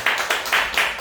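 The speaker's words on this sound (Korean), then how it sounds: "박수로 우리 하나 합시다." Applause from a church congregation welcoming a guest, delivered as four quick rhythmic bursts of clapping in unison, close and fairly loud, with no talking over it.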